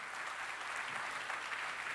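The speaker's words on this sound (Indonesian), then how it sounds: "Yang percaya beri tepuk tangan yang meriah buat Raja kita." A church congregation applauds in a steady, continuous wash of clapping, fairly faint and even throughout, with no voice on top.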